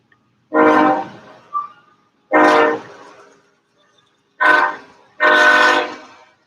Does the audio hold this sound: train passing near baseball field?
yes